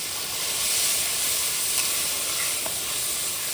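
Mustard sauce sizzling hard in a hot pan as water goes in, a loud steady hiss and crackle of frying steam running throughout, close and without talk.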